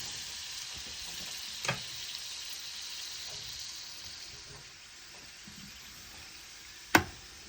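Butter added to the side of a skillet next to crisp fried potatoes, a soft, even sizzle running throughout, with a light tap near the start and a sharp knock toward the end.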